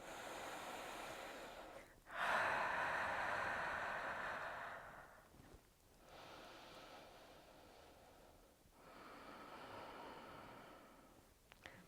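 Slow, airy breaths during a hypopressive exercise, a long exhale followed by softer, quieter breath cycles with pauses between them.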